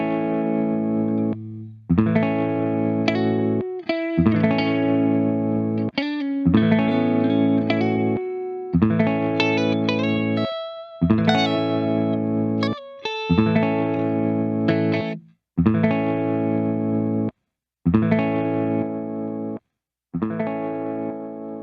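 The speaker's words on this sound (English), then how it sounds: "let's listen to the infinite toggle with a big old chord" A Maneco Labs 16 Second Delay pedal on infinite hold, looping a big distorted guitar chord that repeats in swelling, echoing bursts separated by short silences.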